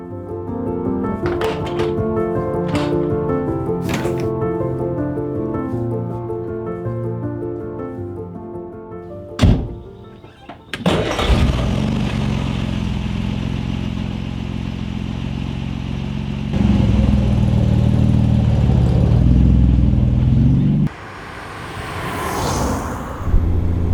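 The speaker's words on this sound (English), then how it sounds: "What a unique experience it is to drive an Austin Healey, to drive a 1960s British sports car" A 1960s Austin Healey 3000 MK III British sports car, with its original matching engine and electronic ignition, running loud and close, shifting from a steady drone to a rougher, heavier roar partway through, with a few clattering knocks.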